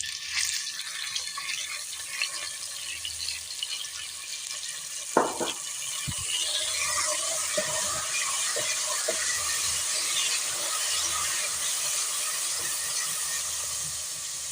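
Water poured into garlic masala frying in a pan, giving a steady broad sizzle and hiss that holds across the whole stretch, with a few sharp clinks and pops near the start.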